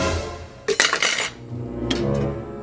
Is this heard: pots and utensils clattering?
yes